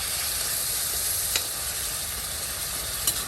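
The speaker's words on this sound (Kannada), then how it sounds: "ಈಗ ಇದಕ್ಕೆ 3 ಟೊಮೆಟೊನ್ನ ಹಾಕ್ತಾ ಇದ್ದೀನಿ." Tomatoes sizzle in a hot pan for chicken biryani, a steady broadband frying hiss running throughout with a couple of faint clicks, no voices.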